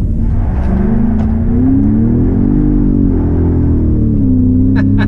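A Ford Raptor pickup's loud engine roars from inside the cab as it accelerates hard, the pitch climbing, dipping briefly at a gear change, then rising again.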